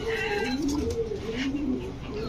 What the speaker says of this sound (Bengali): ব্ল্যাক ম্যাকপাই কবুতর কালো ম্যাকপাই